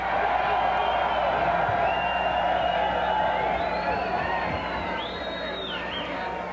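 Concert crowd at a show in Vancouver's Commodore Ballroom roars and cheers continuously, a dense wash of voices with whistles and whoops rising over it, loud and sustained before easing slightly near the end.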